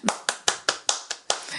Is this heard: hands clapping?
yes